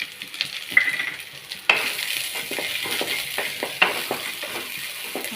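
Chana dal and onion sautéing in hot oil in a pan while making a cassava stir-fry: a steady crackling sizzle with sharp stirring scrapes and clicks throughout, close and moderately loud, with no talking.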